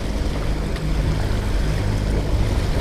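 A small boat's motor drones low and steady on open water, with wind and lapping waves filling the background and no voices.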